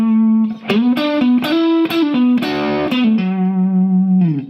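Electric guitar playing a solo phrase at full speed, overdriven tone with effects, quick bends and sliding sustained notes ringing clearly with no talk over them.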